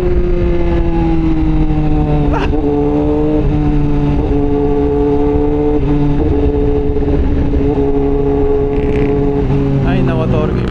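A motorcycle fitted with an upgraded CVT rides steadily, its engine droning loud and close with shifting pitch and brief rises in revs throughout.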